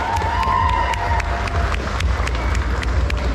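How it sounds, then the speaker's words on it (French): A convention audience applauds at a cosplay contest, steady clapping mixed with crowd noise and a low rumble, with sharp individual claps standing out throughout. "Je vais applaudir bien fort Annie, donc Lydia Cosplay."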